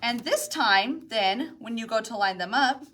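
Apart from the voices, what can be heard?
No distinct noise like a dog, phone or traffic.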